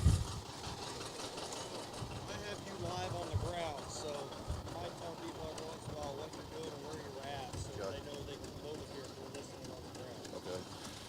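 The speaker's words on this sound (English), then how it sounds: "Coming up next is Jake Peel on a 1960 John Deere 830 out of Westport" A 1960 John Deere 830 tractor runs steadily in a parade, its engine chugging under continuous announcer talk and background crowd noise.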